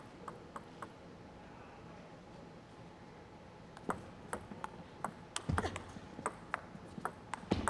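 Table tennis ball rally in a women's singles quarterfinal at the World Championships, a quick sequence of light sharp clicks as the ball bounces on the table and strikes the bats, faint at first and growing busier and louder.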